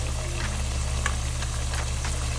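Potato wedges fry in a pan with a steady, dense sizzle and occasional small crackles and pops, continuous and close.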